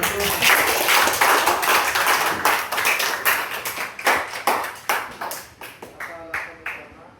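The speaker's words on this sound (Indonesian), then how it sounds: "Kasih tepuk tangan." A high school class applauds together, with dense, lively clapping that gradually thins out into a few scattered claps.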